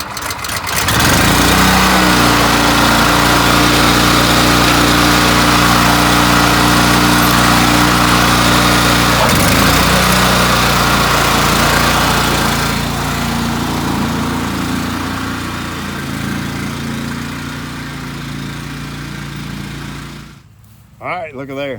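A rented slit seeder runs loudly up close over thick turf-type tall fescue, its engine droning steadily before easing slightly and cutting off near the end; some voice may be buried under the engine noise.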